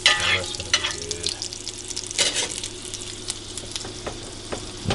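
Hash browns fry in a mix of olive oil and butter in a pan, a steady close sizzle with scattered stirring clicks and a brief watery splash near the start.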